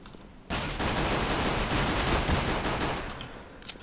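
Rapid automatic gunfire in CS:GO bursts in abruptly and continues as a dense, loud, sustained volley for about three seconds before tapering off, ending with a last sharp crack.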